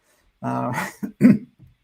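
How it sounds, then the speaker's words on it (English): A single harsh cough or throat-clearing close to the microphone, followed by a couple of short, rough bursts trailing off. "I didn't mean to cough into the microphone"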